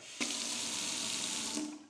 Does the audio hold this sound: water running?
yes